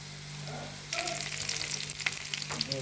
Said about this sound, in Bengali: পেঁয়াজ কুচিটা এখন হালকা ভেজে নিচ্ছি